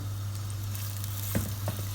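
Carrots and garlic sizzle in hot olive oil in a pan, a steady low crackle with a couple of brief stirring scrapes near the end.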